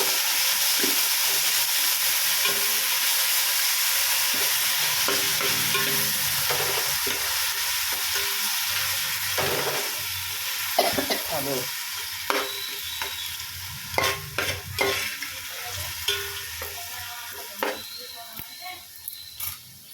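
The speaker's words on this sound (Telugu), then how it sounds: "కొంచెం పుదీనా, అంతా ఒకసారి తిప్పుకోవాలి." Mint and basmati rice stir-fry in a pan with a steady sizzle and hiss, broken later by sharper scraping stirs and clinks; a voice speaks over the cooking.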